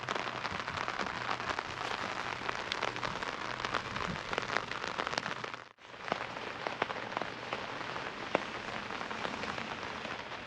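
Rain patters steadily on a hammock tarp at night, a dense close-up drumming of drops with sharper individual taps, briefly cut out midway before resuming.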